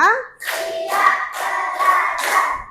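A class of schoolchildren claps in unison, counting off a fifth round: four sharp, loud group claps in a steady rhythm, with no one talking over them.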